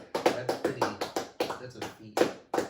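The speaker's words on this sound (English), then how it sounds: "round of applause" A round of applause from a few people, with distinct hand claps in an uneven rhythm that fades in bursts, recorded close with no talk over it.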